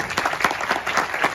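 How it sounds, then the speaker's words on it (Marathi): A crowd at a Konkan magazine launch ceremony bursts into vigorous applause, close and continuous, with individual claps popping through the dense patter. "जरा जोरदार टाळ्या त्याच्यात"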